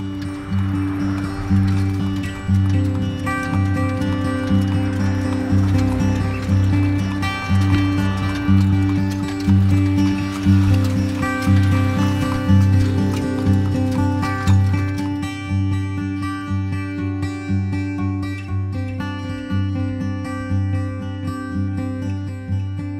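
A horse pulls a two-wheeled wooden cart, with a steady rolling clatter and hoof rhythm heard throughout, loud and close, under a layer of continuous tonal background sound.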